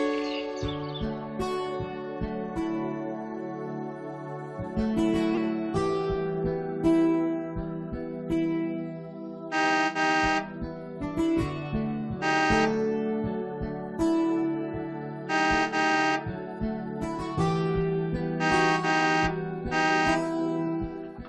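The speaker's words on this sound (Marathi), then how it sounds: "तो हॉर्न वाजवणं बंद करा" A vehicle horn honks in a series of short, repeated blasts, loud and tonal, layered over steady melodic background music.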